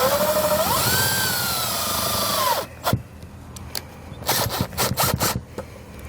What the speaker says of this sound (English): we're just pre-drilling the holes.